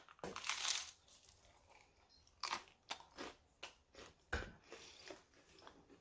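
Someone bites into a crispy two-ingredient keto onion cheese waffle, giving sharp crunches followed by a series of irregular, close chewing crunches, loud and dry in a quiet room.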